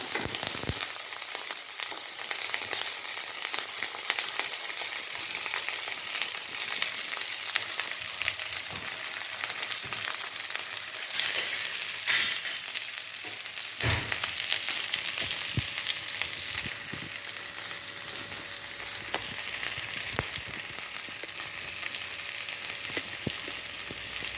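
Chopped onion, green chili and shallots fry in hot oil, a loud, steady broadband sizzle running throughout with occasional crackles and spoon scrapes, no voices.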